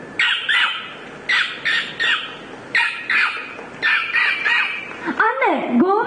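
On a school arts-festival stage, a mimicry contestant imitates dolphins with a run of shrill, squeaky clicks and whistles in short repeated bursts, ending in a rising and falling whistle sweep.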